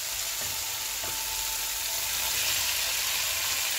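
Three-colored capsicum and mixed vegetables stir-frying for vegetable noodles, giving a steady, bright sizzle and hiss with a couple of faint knocks of stirring, close and continuous with no voices.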